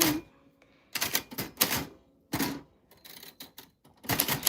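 Mechanical typewriter being typed on up close, bursts of rapid clacking keystrokes separated by short pauses, loud and dry with no talking.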